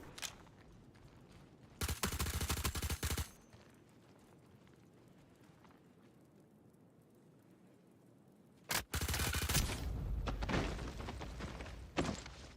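Gunfire in the video game Star Citizen arrives as two dense bursts of rapid automatic shots, each lasting a second or more, separated by a quieter stretch of low rumbling ambience, loud and close.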